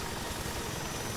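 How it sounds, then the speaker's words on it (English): A helicopter in the Arma 3 Vietnam game gives a continuous rotor and engine drone with a rhythmic low thumping, steady and moderately loud throughout the brief moment. "I said you could hear the chopper somewhere from the south."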